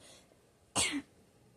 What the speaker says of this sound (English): I'm just going to cough because...